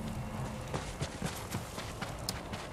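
Horses' hooves in the video game Ghost of Tsushima, steady rhythmic clip-clop of galloping horses over a constant bed of ambient noise, with no talking.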